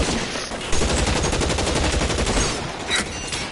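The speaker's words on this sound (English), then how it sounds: "Start shooting!" Rapid, sustained automatic gunfire from an L.A. Noire shootout, loud and dense, with overlapping rattling bursts filling the whole stretch and a brief lull near the end.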